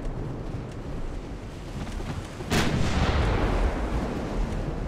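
Naval gunfire from warships in the game Ultimate Admiral: Dreadnoughts, with a single heavy boom about midway through that rolls into a sustained low rumble over steady wind-like background noise.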